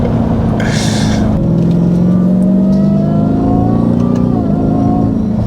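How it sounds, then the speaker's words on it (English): Hennessey Velociraptor 1000, a supercharged pickup weighing over 6,000 pounds, pulling hard under acceleration: a deep engine rumble with a whine that climbs in pitch and a short shift break late on, loud and close, with a brief burst of other noise near the start. "that whine you get from the supercharger is unbelievable"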